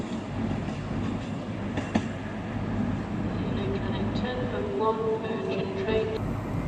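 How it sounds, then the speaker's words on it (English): A late-running Virgin Trains East Coast service from Glasgow Central to London King's Cross pulls into Darlington station on the East Coast Main Line, a steady rumble with wheel clatter and brake squeal under an announcer's voice. "arriving in now is the late running 10:01 Virgin Trains East Coast service to London King's Cross from Glasgow Central"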